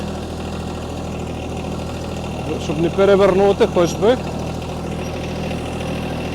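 A tractor engine idles steadily in a low, constant rumble while lifting a heavy log at a sawmill, with someone speaking briefly over it partway through.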